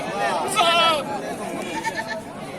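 A goat bleats clearly in a busy livestock market, one wavering cry that stands out over nearby chatter and crowd noise, with people talking close by.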